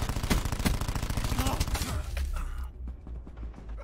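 Rapid bursts of automatic gunfire in a first-person multiplayer shooter's team deathmatch, loud and close, rattling in quick succession before cutting off into quieter mechanical clatter near the end.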